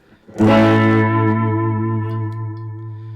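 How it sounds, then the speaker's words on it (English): A single electric guitar chord through a lightly driven tube amp, rockabilly tone, rings out with a slightly gritty, lightly overdriven sound, sustaining and slowly fading. "you can hear that it's a cleaner sound, but it's got a touch of that grit to it"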